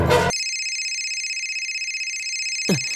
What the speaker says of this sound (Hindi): अरे सुनना, सैम का फोन है।